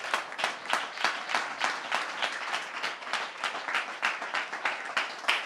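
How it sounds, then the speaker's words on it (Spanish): A church congregation claps hard for Jesus during a worship service, a brisk, rhythmic stream of many hands beating in near-unison pulses, moderately distant and steady throughout. "Un aplauso fuerte para Jesús."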